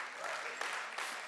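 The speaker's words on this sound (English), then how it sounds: "it's worth clapping about" An audience claps in a steady burst of applause at a talk on patriarchy. The sound is dense and fairly loud, with a few sharper claps standing out, and it holds throughout without a pause.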